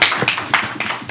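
An audience applauds at a youth entrepreneurship bootcamp pitch contest, a short burst of close, crisp clapping with uneven, separate hand claps and no talking.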